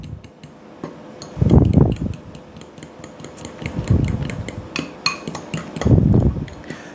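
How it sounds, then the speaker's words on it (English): A fork stirring a pork and panko mixture in a bowl, giving close scraping and clinking sounds in three distinct mixing bursts with light metallic ticks between them. "I'd mix it up thoroughly with the fork"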